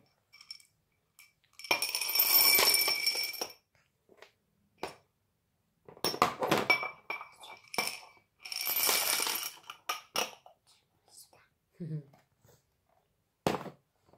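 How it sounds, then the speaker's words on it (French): Dry chickpeas are poured from one container into another in a toddler practical-life exercise, with rattling, clinking bursts and pauses between pours under intermittent talking. "j'ai pris des pois chiches et l'exercice est simplement de transvaser d'un récipient à un autre"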